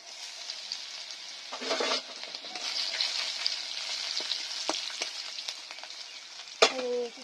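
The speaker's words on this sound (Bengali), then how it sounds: "তেলে একটা কাঁচা লঙ্কা দিলাম, গোটা জিরে দিলাম, একটা তেজপাতা দিলাম, থেতো করা রসুনগুলো দিয়ে দিচ্ছি" Green chili, whole cumin, a bay leaf and crushed garlic sizzle in hot oil with a bright, crackling hiss, broken by a few stirring scrapes and a louder knock of utensil against pan near the end.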